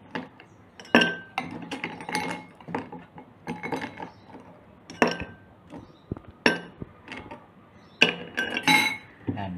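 Ice cubes dropped into a tamarind mojito glass, producing a series of sharp, close glassy clinks and rattles in several separate bursts, with no talking.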